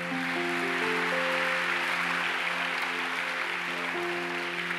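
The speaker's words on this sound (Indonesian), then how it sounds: "Yang percaya berikan tepuk tangan." A church congregation at a Christian conference claps in a dense, steady wash of applause for the full stretch, with sustained keyboard chords ringing underneath.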